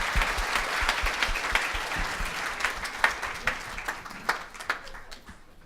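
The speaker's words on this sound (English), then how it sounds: "So a big round of applause for the panel" Audience applause at a Type One Summit 2018 main session, sustained crowd clapping filling the room and thinning into scattered individual claps toward the end.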